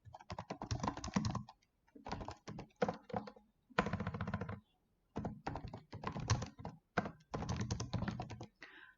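Rapid keyboard typing in bursts while text goes into Microsoft Word, close and clear, with clustered keystrokes broken by brief pauses.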